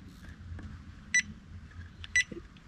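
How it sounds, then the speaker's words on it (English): A JK-BMS 4S-8S battery management system for a 12V LiFePO4 pack beeps twice on power-up, two short bright bleeps about a second apart over a low background hum. "There we go, it beeps."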